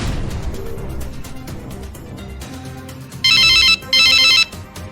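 A telephone rings loudly up close in two bright electronic bursts, following a stretch of noisy crashes and tumbling sounds.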